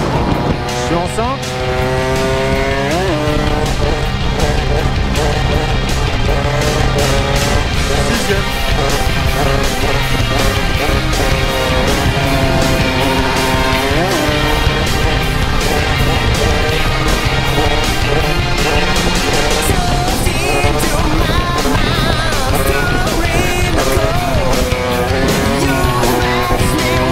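A 70cc moped engine revs hard and steadily in fifth gear during wheelie attempts. The loud, continuous buzzing whine rises and falls in pitch, and wind rushes across the microphone.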